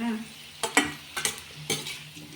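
Bitter gourd stirred and frying in a pan in a village kitchen, a soft steady sizzle broken by four or five louder scraping stirs spaced about half a second apart.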